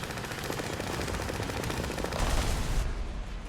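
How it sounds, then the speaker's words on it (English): Rapid 20mm flak autocannon fire in the War Thunder tank game, a dense, continuous stream of shots with louder, heavier blasts joining toward the end, sounding close and unbroken with no talk. "And it's got a 20mm flak."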